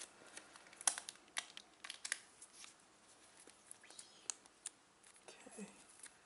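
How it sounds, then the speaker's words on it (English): Plastic film peeled and crinkled off a new Nexus 6P Frost White phone during unboxing, quiet scattered rustles and sharp crackles close to the mic with no talking. "Let's take the plastic off."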